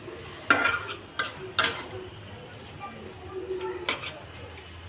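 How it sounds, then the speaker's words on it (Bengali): Leafy greens cooked down nearly dry in a pan, stirred with a utensil in a few distinct scraping, clattering strokes over a quiet sizzle, close and moderately loud. "এই যে শাকটা দেখুন নেড়ে চেড়ে সুন্দর করে রান্না করে নিলাম"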